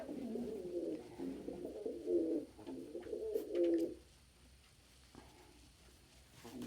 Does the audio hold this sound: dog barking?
no